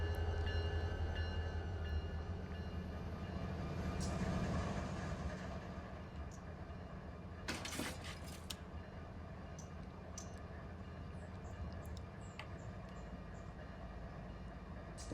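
Freight train rolling through a rail yard in the Run 8 train simulator video game, a steady low rumble with clicking wheel noise and a few sharp metallic squeals, fairly quiet throughout.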